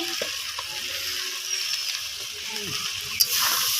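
Turmeric and chilli powder frying with spices in a pan in a Bengali village kitchen, a steady close sizzling hiss with light stirring scrapes and a sharp clink near the end.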